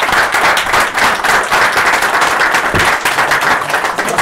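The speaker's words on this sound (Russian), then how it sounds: "ваши аплодисменты, дорогие друзья." Loud, sustained applause from the room at a post-match press conference after Arsenal Tula beat Torpedo Moscow 1:0, as a gift is presented to the coach on behalf of fans; dense clapping carries on steadily throughout.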